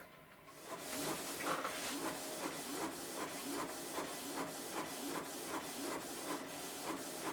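A printer runs through a water slide decal sheet, giving a steady mechanical whir with regular rhythmic clicks and passes for several seconds, fairly faint and with no talking.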